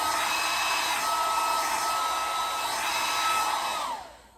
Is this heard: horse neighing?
no